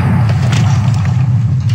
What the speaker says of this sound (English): Don't worry, it's just a thunderstorm. That was very loud.